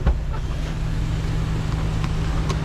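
A Smiley Edition mini van's K6A 660cc engine runs with a steady, close, low rumbling hum and faint ticks, and no one talks over it.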